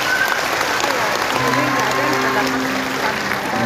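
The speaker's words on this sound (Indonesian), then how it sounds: "Kita berikan tepuk tangan untuk beliau." Audience applause fills an Islamic talk session hosted by a preacher, a steady dense clapping from a crowd, with a low hum and some voices faintly beneath it.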